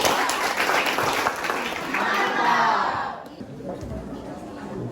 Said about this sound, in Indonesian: Mari kita beri aplaus buat kelompok.